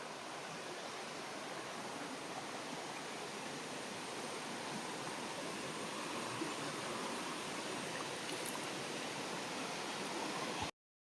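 Vazhvanthol waterfall tumbling over large natural rocks, a steady broadband roar of rushing water that holds constant and dense for the whole stretch before cutting off abruptly.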